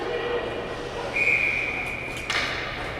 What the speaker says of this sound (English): And we're going to get a whistle.